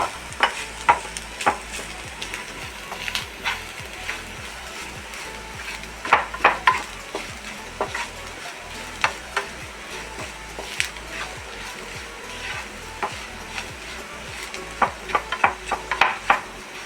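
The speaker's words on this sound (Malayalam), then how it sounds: "ഒരു സ്പൂൺ മുളക് പൊടി നന്നായിട്ട് മിക്സ് ചെയ്യാം" Raw banana peel thoran fries in a pan as chilli powder is stirred through, with repeated spoon scrapes over a soft, continuous sizzle.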